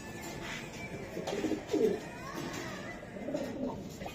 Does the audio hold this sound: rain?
no